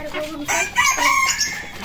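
A rooster crows close by, loud and drawn out, filling the short moment with its strained, rising call.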